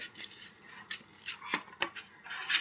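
Roti dough made from atta is kneaded firmly in a metal plate, giving soft irregular slapping and pressing thumps with faint metallic scrapes, close and fairly quiet.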